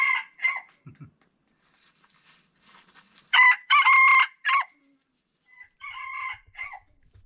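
Domestic rooster crowing outdoors in a forest setting, several loud, close calls with gaps between them, along with a few clucks and faint background sounds.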